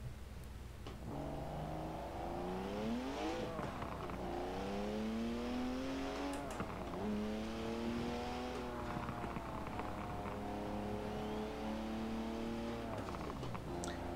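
Car engine revving and shifting in the racing game Forza Horizon 4, rising and falling in pitch through repeated gear changes, steady and alone.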